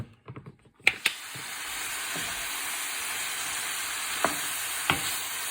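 Chicken being stirred in soy sauce and barbecue sauce, giving a steady wet sizzling hiss with a few sharp clicks of a utensil against the bowl near the start and later.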